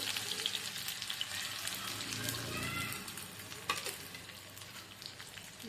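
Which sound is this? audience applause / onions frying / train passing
onions frying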